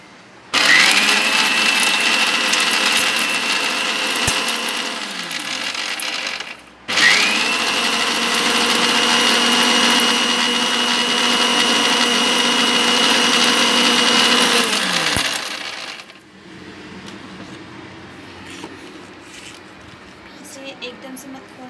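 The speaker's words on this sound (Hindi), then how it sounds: "इसे आप थोड़ा थोड़ा ग्राइंड करना, क्योंकि इसके ऊपर के जो ये रेशेस हैं ये सारे ऊपर आ जाएंगे।" An electric grinder chews through coconut husk to make cocopeat, giving a loud, steady motor whine that runs, cuts out briefly, starts again and then stops, leaving quieter background noise.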